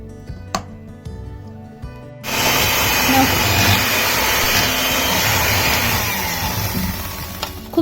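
An electric mixer beats cake icing in a bowl, switching on after about two seconds of quieter clatter into a loud, steady motor whir that holds to the end.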